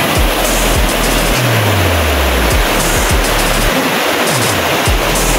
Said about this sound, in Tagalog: Napakalaking ilog.